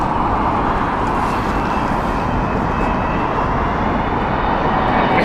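A United Airlines Boeing 777 at Heathrow gives a steady, loud broadband engine roar that holds evenly, with no talk over it.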